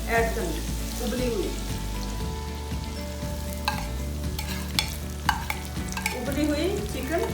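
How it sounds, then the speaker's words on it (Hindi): Boiled chicken fries with salt in a pan, sizzling steadily while a utensil stirs and scrapes through it in repeated knocks and clatters. "चिकन अच्छे से फ्राई हो चुकी है"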